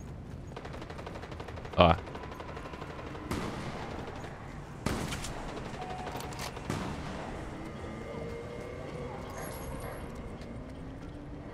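Rifle shots in Fortnite ring out as a few separate loud cracks spaced seconds apart, the sharpest coming early, over a low game background with brief talk.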